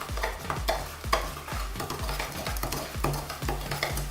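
Sugar and shortening are mixed for homemade donut dough, with a spoon thumping and scraping around a bowl in a steady, repeated rhythm of strokes about twice a second, close and clear.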